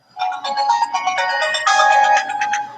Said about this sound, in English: Must be Steve's phone